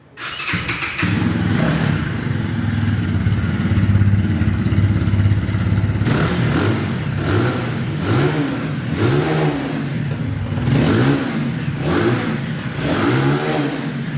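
A HiSpeed Cyclone 250cc motorcycle idles, then revs repeatedly in short bursts, loud and close, with a fairly mild, stock-sounding exhaust note.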